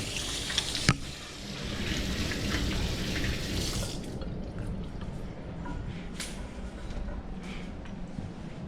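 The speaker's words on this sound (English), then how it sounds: "Let me just rinse my hands, they're all sticky." Sticky hands rinse under a running kitchen tap, a steady close rush of water with splashing and a sharp clink near the start, no one talking.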